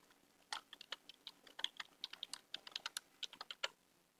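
Quiet, rapid keystrokes on a computer keyboard as a password is entered, about two dozen crisp clicks in an uneven burst, close and faint, with no talking.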